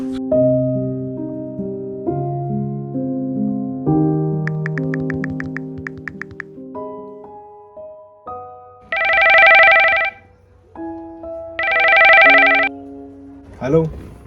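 Two bursts of a telephone ringing back on an outgoing call, each about a second long and clearly separated, following a stretch of soft background music.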